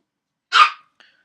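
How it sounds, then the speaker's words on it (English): A single dog bark, sharp and close, bursts out once and then trails off into a faint, brief yelp. "My dog is going crazy."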